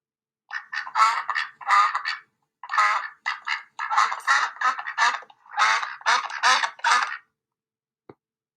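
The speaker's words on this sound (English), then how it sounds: "A duck goes by quacking." A duck quacks in a long series of loud, close, raspy calls, grouped in rapid bursts, before falling silent.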